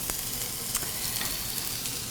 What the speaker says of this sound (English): When you're trying to brown those potatoes, but without the garlic burning.